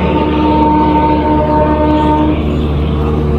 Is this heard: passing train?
yes